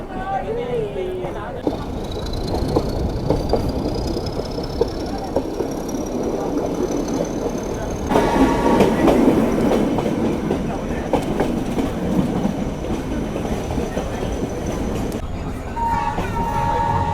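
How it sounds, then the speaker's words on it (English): Ooty toy train pulling out of Udagamandalam railway station on the Nilgiri line, wagons clattering and rumbling steadily with a rising whine, louder rattling midway, and voices present under the noise. "12:15 p.m. our train is going to depart from Udagmandalam railway station"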